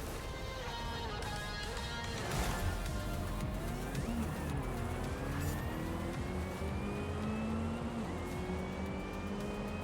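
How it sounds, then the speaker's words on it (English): A supercharged BMW in the Forza racing game revs and accelerates loudly, its engine pitch climbing steadily with a whine over continuous drone, while a faint voice talks over it. "Hear that supercharger."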